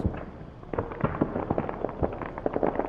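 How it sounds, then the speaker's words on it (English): Rapid crackling pops like distant gunfire or fireworks in the video game Security Booth, an irregular string of sharp bursts of varying loudness over a dull background rumble. "Why does that sound like fireworks?"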